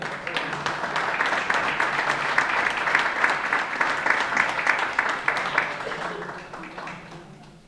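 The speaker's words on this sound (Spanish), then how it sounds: "aplauso fuerte también a Manuel Goya." An audience at a traditional Asturian tonada song festival gives a long, strong round of applause. Dense clapping holds steady for several seconds, then tapers off at the end.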